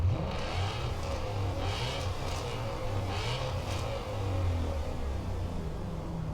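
A 2016 Shelby GT350R V8 engine rumbles and revs steadily, a deep throaty growl with a few higher surges, loud and close throughout.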